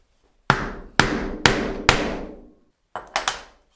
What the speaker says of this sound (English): I can take the same obverse pricking iron that made this mark here. And if I turn it over and go all the way through the leather